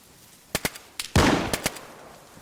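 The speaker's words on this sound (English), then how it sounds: "Took some little pot shots right there and then switched to my sniper." Gunfire from a player in the survival video game DayZ, several sharp shots mostly in quick pairs, one heavier blast trailing off in a long echoing tail, fairly loud against quiet ambience.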